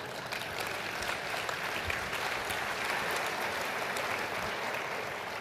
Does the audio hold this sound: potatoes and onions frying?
no